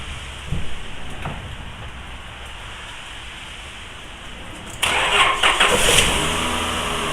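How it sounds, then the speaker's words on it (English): A van with a completely dead battery is started using a portable jump pack: a faint click and brief crank, then the engine catches with a sudden loud rise into a steady, close idle that keeps running. "Now I'm going to go ahead and get in the van and start it up."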